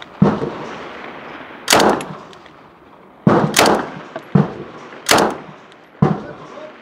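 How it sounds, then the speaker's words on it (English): A STEN Mk.2 submachine gun fires 9x19mm rounds at a 100 m range, loud sharp shots in short bursts spaced a second or two apart, ringing against the open air. "Okay, so we're shooting very, very high. Let's see if we can bring that onto the target."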